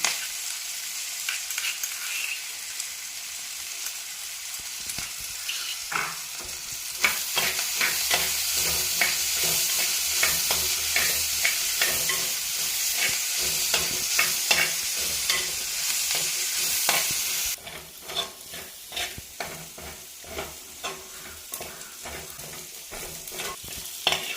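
Onions sizzle in a pan for a Kerala-style mutton curry as crushed ginger and garlic are added and stirred in. A steady fry hiss runs under repeated scraping strokes, louder in the middle and then dropping to a softer sizzle.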